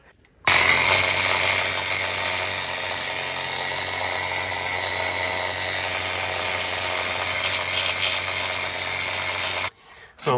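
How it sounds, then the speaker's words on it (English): A needle gun rattles continuously against the steelwork of a Bentley car, descaling it in a harsh, dense, loud buzz that starts abruptly and cuts off near the end. "we've done a bit of needle gunning"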